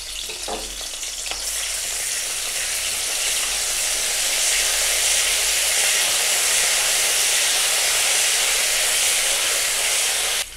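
Ginger garlic paste sizzles in hot oil for a Tamil prawn thokku, a loud, steady crackling hiss that begins with a sharp burst and holds without pause for about ten seconds, with no voices over it.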